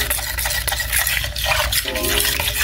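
Homemade foaming soap ingredients being mixed, producing a continuous wet, swishing rustle of liquid that stays fairly loud and close throughout.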